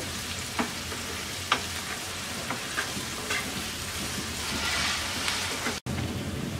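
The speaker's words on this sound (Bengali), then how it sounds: "পেঁয়াজটাকে আমরা হালকা ব্রাউন কালার করে ভেজে নেব।" Onions fry in four tablespoons of oil toward light brown for a chicken dopiaza, giving a steady close sizzle with occasional crackles and a few faint stirring taps, no voices present.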